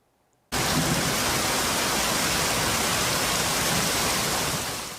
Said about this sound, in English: There was so much hail and the rain was pouring at the same time.